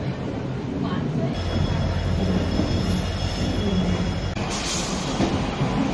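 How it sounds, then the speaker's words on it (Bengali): The Shantiniketan Express pulling out of Howrah Junction: a steady, close rumble of rolling wagons with thin wheel squeal and a faint high whine, continuous throughout, with brief clanks partway. "আমাদের ট্রেন শান্তিনিকেতন এক্সপ্রেস তার নির্দিষ্ট সময় 10টা বেজে 10 মিনিটে ছেড়ে যাচ্ছে হাওড়া জংশন থেকে"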